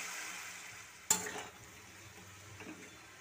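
Potatoes with salt and turmeric fry in a pan for a Bengali aloo posto, giving a faint, steady hiss with one sharp scrape or stir clatter partway through, otherwise quiet.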